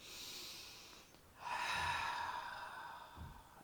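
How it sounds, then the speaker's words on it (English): Slow, audible breaths during a chair yoga breathing exercise: one long exhale, a brief pause, then a fuller, louder breath lasting about two seconds, close and alone with no talk. "breathing in and out without counting"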